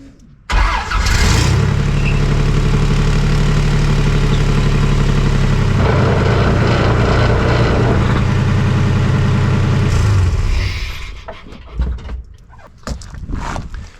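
A vehicle engine starts and runs in gear with a steady loud grinding from the drivetrain and drive shaft, holding for about ten seconds before cutting off, close by with little talk.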